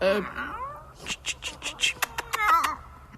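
Cat in a castle setting answering a call, a quick run of short, close meows and chirps following a person's calling voice.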